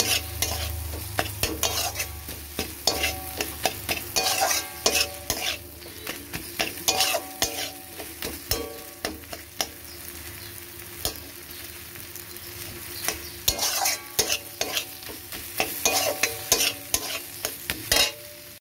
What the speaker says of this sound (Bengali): আলুটাকেও ভালো করে মশলার সাথে কষিয়ে নেব।